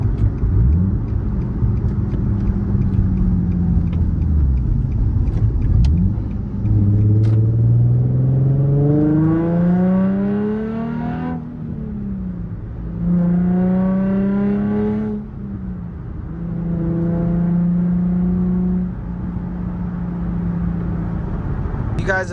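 A 2008 Nissan 350Z, rear-wheel drive with a 6-speed, accelerates through several gears, each pull rising in pitch before dropping at the shift, close and fairly loud with steady engine drone between.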